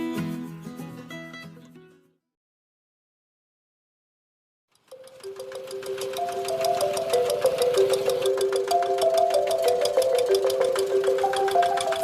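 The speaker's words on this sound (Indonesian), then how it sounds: "Sepintas traktor ini seperti mainan karena dikendalikan menggunakan remote control." A remote-controlled farm tractor for tending shallot crops in Nganjuk runs its engine: after a brief sound and a pause of silence, a steady, loud buzzing drone starts and continues without a break.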